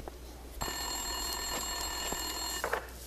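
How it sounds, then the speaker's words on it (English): A desk telephone rings in Max Payne 2, an electronic bell with steady tonal pulses for about two seconds, fairly close and clear over low room hum, with no talk. "Winterson's phone was ringing."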